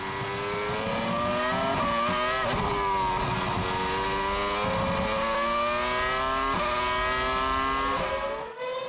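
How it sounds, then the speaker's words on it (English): Formula 1 race cars of the 2006 season scream past at full speed, their high-pitched engines layered and shifting up and down through gears, loud and continuous with no talk. "Kubica is harassing Scott Speed. He wants to cause a stir on his first F1 appearance."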